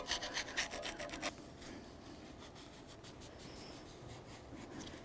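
A tool scrapes debris off the edges where the 4WD hub actuator mounts on a 2007-2017 Ford Expedition, with a few quick rasping strokes at first, then a faint, steady scraping.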